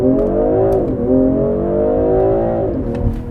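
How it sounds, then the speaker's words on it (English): A 2020 BMW M340i xDrive launches hard under launch control, its engine a loud, close, rising growl that drops briefly at each gear shift before climbing again. "2020 BMW M340i. X-Drive with launch control."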